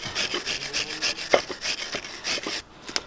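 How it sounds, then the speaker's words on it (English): A wire brush scrubbing a rear brake caliper carrier on a BMW E36: rapid rhythmic scratchy strokes, close and loud, about a dozen back-and-forth passes ending in a brief pause and one last scrape. "get a wire brush and just give it a damn good brush"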